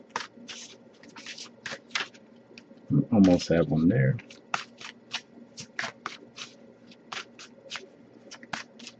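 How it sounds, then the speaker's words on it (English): Tarot cards being shuffled by hand, a steady series of quick, crisp riffling snaps close by, briefly interrupted by a short spoken remark midway before the rhythmic shuffling resumes. "I'll give a few more shuffles before I move on."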